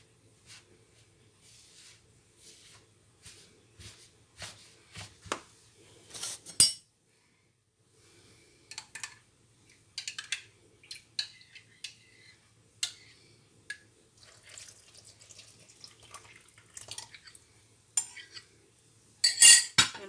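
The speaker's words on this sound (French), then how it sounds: "Et là, on mélange." Ingredients for Brazilian bread being stirred in a bowl, with light clinks and taps of a utensil against the bowl coming in irregular bursts, close and fairly quiet, louder clatter near the start and end.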